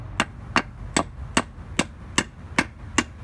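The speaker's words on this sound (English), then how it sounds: "you guys are gonna need a hammer, and you guys are going to hit it right here." A hammer strikes the piston of a Toyota Tundra four-piston brake caliper eight times in a steady, evenly spaced rhythm, each blow a sharp, close metallic knock with no talking.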